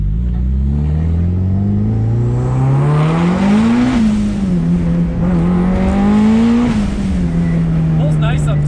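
Mitsubishi Evo 5 tuned past 500 wheel horsepower accelerating at full throttle from inside the cabin, engine note climbing loud and near with a shift and renewed rise, voices talking over it.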